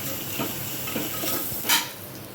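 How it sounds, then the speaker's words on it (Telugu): Curry leaves drop into a hot pan of besan with salt and set off a soft, steady sizzle and hiss, with light stirring scrapes and a brief sharper crackle near the end. "కరివేపాకు కూడా వేసుకుంటున్నానండి."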